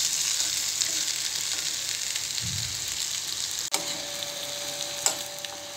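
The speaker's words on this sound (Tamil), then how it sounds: "இன்னும் கொஞ்சம் நேரம் நல்லா ஃப்ரை ஆகட்டும், தனித்தனியாக வரட்டும்." Jackfruit seeds frying with black pepper in a hot pan give a steady, close sizzle and crackle throughout, with a brief stir and a couple of sharp clinks from the pan, no voices.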